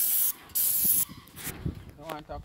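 A paint sprayer hisses in loud bursts while spray painting a roof in Jamaica, two long sprays followed by quieter mechanical clicks and rustling of the hose, with faint voices nearby.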